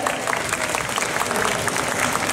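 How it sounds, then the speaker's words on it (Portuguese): Audience at a lolita fashion contest clapping steadily, a dense, even patter of many hands filling the room throughout. "Palmas pra ela, gente."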